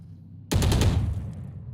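Classic pistol fire in the game Valorant, a sudden burst of several rapid, sharp shots starting abruptly after half a second of quiet, followed by a fading ringing tail.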